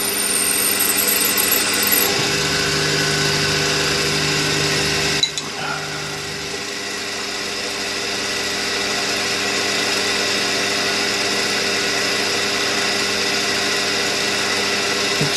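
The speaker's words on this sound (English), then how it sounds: "after this hole is drilled, we have finished machining the crankshaft" A drill boring a hole in a diesel engine crankshaft runs as a steady whirring machine hum, loud and continuous, with a brief clunk midway and a slightly changed tone afterward.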